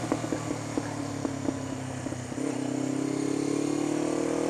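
A motorcycle ridden on a test run after maintenance on its head race: the engine putters with uneven pulses, then settles into a louder steady drone as it gets under way outdoors, nearby with no talk.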